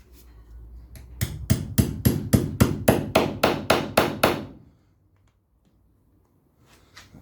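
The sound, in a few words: hammering rivets into Land Rover door seal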